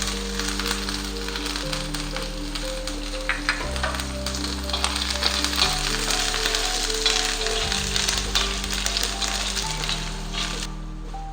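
Ginger and garlic fry in hot oil left from roasting peanuts for a ridge gourd masala, a steady close crackling sizzle with faint pops, over a low tonal background hum.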